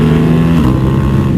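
A Yamaha R1M motorcycle engine roars loud and close as it accelerates, a steady, heavy engine drone throughout.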